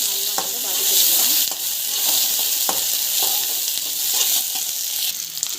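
Ginger garlic paste sautéing with chana dal in a pan, a close bright sizzle broken by several scraping stirs and clinks of a spoon against the pan, no voices over it.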